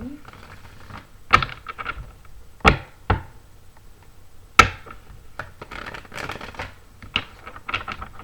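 Tarot cards being shuffled and cut, heard as a few sharp slapping snaps and riffles spread across the stretch, fairly close, with softer rustling between.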